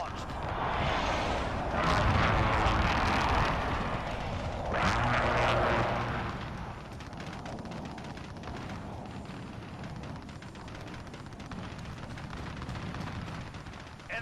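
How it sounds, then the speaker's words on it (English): A cruise missile strike in Call of Duty: Modern Warfare (2019) Ground War unfolds as loud, broad roaring rumbles swelling and fading, with dense explosive noise and crackle over sustained battlefield din. "Allied cruise missile launched."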